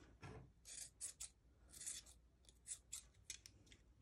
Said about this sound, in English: Take your scissors and kind of trim it up.